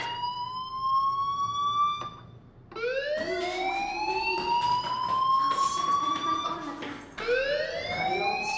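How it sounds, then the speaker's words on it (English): A loud electronic fire alarm in the video game Life is Strange wails in rising, sweeping tones that repeat several times with a brief gap after the first cycle, heard alone without speech. "do you hear that fire alarm? That means you should be outside."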